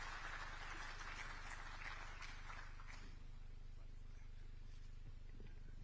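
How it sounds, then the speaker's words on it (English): An audience at Kenya Innovation Week 2024 in Nairobi applauds as a speaker comes on stage, over a steady low hum, the clapping dense for a few seconds and then thinning out. "Let's clap for him as he comes on stage."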